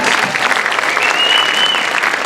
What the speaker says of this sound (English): If you could give them a round of applause, please